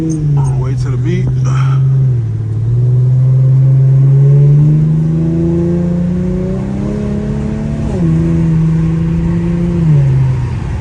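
A car engine revs and holds a deep, droning tone that rises and falls, loud and close, with no one speaking, at a night street-racing meet in Baltimore.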